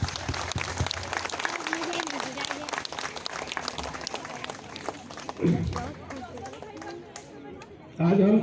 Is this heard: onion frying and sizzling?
no